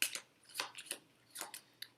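Cards from the Harry Potter: Hogwarts Battle deck-building board game being shuffled by hand, with a quick series of close, crisp riffling and snapping bursts over about two seconds.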